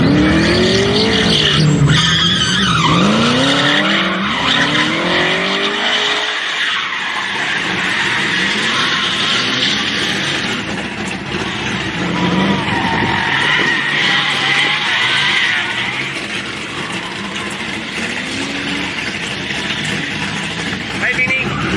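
A car drifting at Powercruise Sydney, its engine roaring loud and near with rising and falling revs and tire squeal, while people talk over it.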